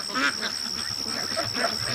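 Geese and ducks honk and quack together in a busy flock, nasal calls overlapping continuously over a steady high electrical whine.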